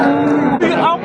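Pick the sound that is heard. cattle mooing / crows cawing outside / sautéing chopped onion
cattle mooing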